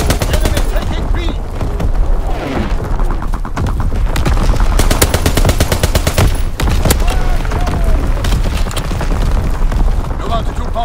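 Artillery battery firing in Call of Duty WWII, dense loud repeated booms and rapid gunfire bursts throughout, heavy and continuous with overlapping blasts.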